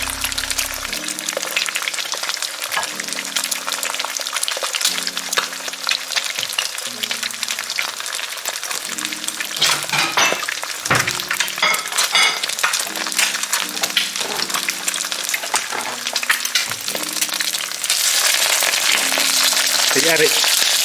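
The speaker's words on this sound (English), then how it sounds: "We're gonna use a lot of oil to fry egg." Egg frying in a generous amount of oil, a loud continuous bubbling sizzle with sharp pops and spatters, interrupted by clunks of a utensil and overlaid with music tones, swelling into a hissier burst at the end.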